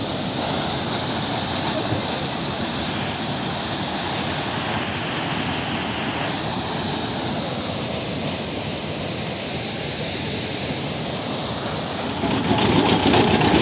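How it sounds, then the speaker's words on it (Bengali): Water gushes hard from a pipe into a river near Uttarkashi, a dense, constant roaring rush that stays loud and even throughout, swelling slightly at the very end. "এটা কোনো একটা পাইপ থেকে জল রিলিজ করছে আর সেই জলটা খুব জোরে এই নদীতে এসে মিশছে"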